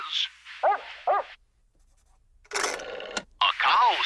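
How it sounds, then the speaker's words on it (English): A couple of short dog barks from an animated sitcom scene, followed after a pause by a louder burst of noisy, bell-like clatter and more yapping. "A dog says..."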